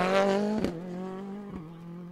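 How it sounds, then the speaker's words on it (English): A rally car's engine holds a steady, strong drone as it passes on the Curragh stage during the Pokerstars Rally, with brief sharp bursts over a sustained tone. "And the sound of the engine, absolutely superb"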